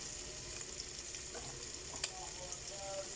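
Gizzard with hot chili fries in a pan, a faint, steady sizzle with a few soft taps from stirring, heard alone and quietly up close.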